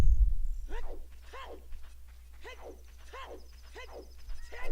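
Repeated horse clip-clop hoofbeats in the video game Ocarina of Time, a rhythmic, fairly close galloping pattern of paired clops over a low steady hum, with no speech.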